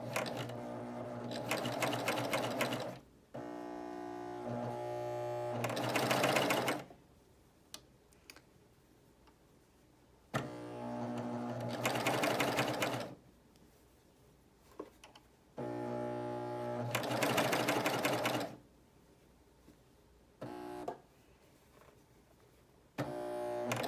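A BabyLock Euphoria coverstitch machine runs in several bursts of steady, rapid stitching, each a few seconds long, with short quiet pauses between them. It sounds close and fairly loud, and no one speaks.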